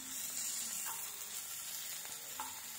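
Garlic and onion fry in a pan with a steady, quiet sizzle and crackle, and a few soft stirring clicks. No one speaks.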